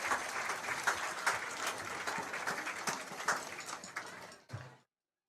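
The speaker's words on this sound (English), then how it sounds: "Please join me in showing your appreciation with a round of applause for tonight's officials" Crowd at a high school football game applauding the officials, a dense field of clapping with distinct sharp claps, steady and then cutting off abruptly near the end.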